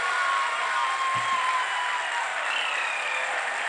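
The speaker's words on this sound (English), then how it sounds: "People are applauding" A crowd applauds the ISRO Chandrayaan lunar landing with a steady, dense wash of clapping that stays fairly faint and even throughout, with no voices.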